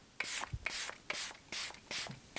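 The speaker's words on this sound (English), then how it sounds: "I'm gonna mist my face with this Hard Candy Look on Lock setting spray" Hard Candy Look on Lock setting spray mists onto a face in five quick, close hissing pumps, each a short airy burst with small gaps between.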